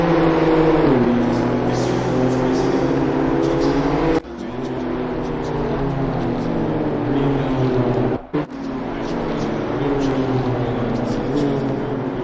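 A BMW M2 CS race car at full throttle in a one-make racing cup, its engine droning steadily and loud with brief dips at gear changes, close and continuous.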